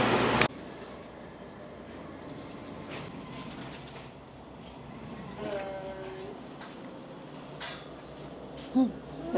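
Faint clinking and clattering of dishes and cutlery against a steady background rumble, with a couple of sharper clanks near the end.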